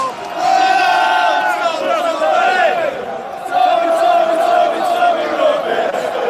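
A large outdoor rally crowd cheers and roars continuously, loud and sustained with swelling shouts and whoops, dipping briefly before rising again.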